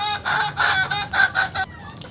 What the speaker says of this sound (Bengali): এগুলো আমাদের ডিম দেওয়া মুরগি, এগুলো ডিম দেওয়া শুরু করে দিয়েছে প্রায়